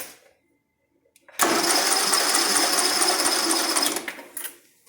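A John Deere LA110 riding mower engine cranks steadily on its starter during a compression test, a rapid, even churning burst lasting about two and a half seconds after near silence, then stopping abruptly.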